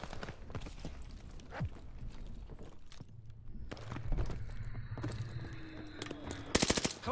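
Heavy machine gun fire in Call of Duty: Vanguard on the Eagle's Nest patrol map, rapid bursts and scattered shots crackling over a rumbling battlefield, ending in a loud tight volley.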